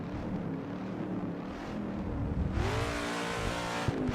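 In the Assetto Corsa game, a Dodge Coronet Super B's V8 engine on a drag strip rumbles, then revs up sharply with a rising, harmonically rich roar, loud and steady.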